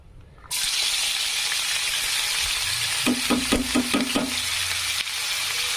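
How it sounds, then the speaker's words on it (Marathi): Chopped white onion frying in hot oil in a kadhai, a steady loud sizzle throughout, with a few stirring scrapes and clinks near the middle. "हा पांढरा कांदा आहे आणि सुनेरा होईपर्यंत असं छानपैकी तळून घ्यायचं कांद्याला"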